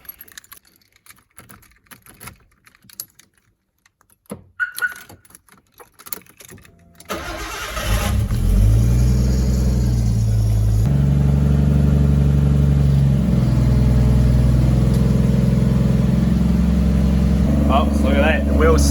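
Car engine starts after quiet clicking and handling sounds, then runs steadily at idle with a loud low drone while a jacked-up rear wheel spins freely; someone speaks briefly.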